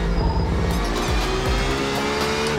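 Tyres squeal and lock under hard braking in a sim racing game, the engine note dropping in stepped downshifts over a brief, loud skid.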